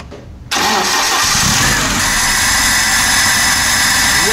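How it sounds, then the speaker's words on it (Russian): A VAZ car engine starting after idle-speed adjustment screws are turned: a short quiet lead-in, then the engine catches abruptly and settles into a loud, steady idle, close up, with no talking. "И уже заводим машину, пожалуйста."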